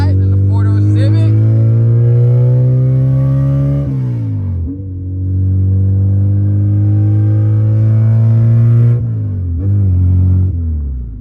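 A Honda Civic EG sedan with a swapped H22 engine revs hard and loud, rising in pitch, dropping back, then climbing again, with a sharp high-rpm VTEC surge and a few voices talking over it.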